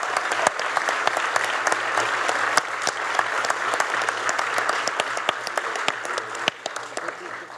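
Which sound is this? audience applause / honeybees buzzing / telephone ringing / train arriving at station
audience applause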